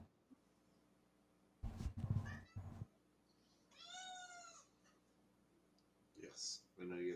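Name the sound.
cat meowing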